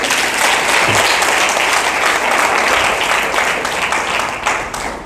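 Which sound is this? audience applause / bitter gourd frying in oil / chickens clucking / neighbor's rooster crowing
audience applause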